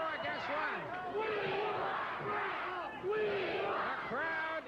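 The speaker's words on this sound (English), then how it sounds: "The crowd yelling for Bret Hart." Wrestling crowd at a Stampede Wrestling match yelling and chanting for Bret Hart, a loud, dense roar of many voices with rising shouts and whistles swelling and falling throughout.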